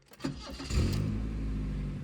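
An old 1992 Toyota Corolla engine cranks briefly, then catches and settles into a steady, rumbling idle close by.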